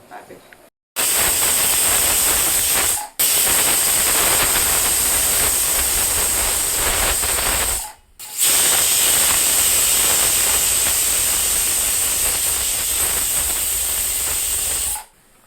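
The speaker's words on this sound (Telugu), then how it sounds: "చూసారు కదండి మూడు మూడు విజిల్స్ వచ్చినాయి కదా" A pressure cooker cooking rice lets out three long, loud hissing steam whistles, each a sustained blast of several seconds separated by brief gaps, close and dominating.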